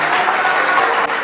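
A church congregation breaks into a short, loud burst of applause and cheering, a dense wash of clapping that lasts only about a second.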